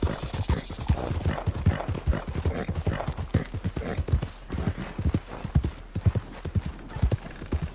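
Rapid, rhythmic hoofbeats of a galloping horse in the video game Red Dead Redemption 2 pound steadily and loudly throughout, with a faint voice now and then.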